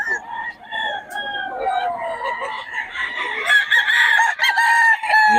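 A bullstag, a young gamecock, crows and clucks repeatedly up close, loud rising calls layered with other fowl clucking, among gamecock keepers at a market stall.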